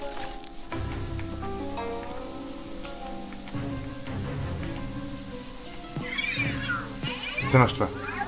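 An angry giant cat in the video game Luigi's Mansion 3 lets out rising yowls and hisses near the end, over a steady humming game soundtrack, with someone talking at moments.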